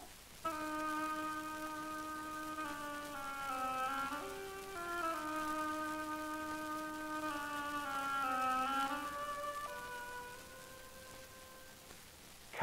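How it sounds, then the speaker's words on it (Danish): An oboe plays the waddling duck's theme from Peter and the Wolf with the London Philharmonia Orchestra, a slow, reedy, nasal melody of long held notes with gentle dips, heard alone. "Den vraltende anden må være en obo."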